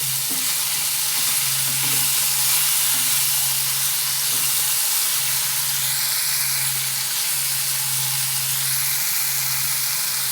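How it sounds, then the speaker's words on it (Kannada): Sliced bitter gourd fries in a pan over a low flame, a steady, close sizzling hiss with a faint low hum, continuous and without talk. "ಚೆನ್ನಾಗಿ ಫ್ರೈ ಮಾಡಬೇಕು ಇದು"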